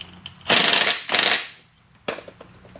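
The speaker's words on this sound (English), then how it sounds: "Take our wrench and give it an ooga-dooga." A wrench, likely an impact wrench, fires two loud, close rattling bursts on the oil drain plug of an Exmark Lazer Z mower, then gives a short third hit after a pause.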